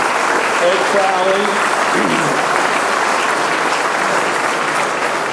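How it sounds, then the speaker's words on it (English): Sustained crowd applause for the hosts at an economic strategic planning summit, steady and dense throughout, with a voice briefly speaking over it near the start. "let's give another round of applause for our hosts tonight"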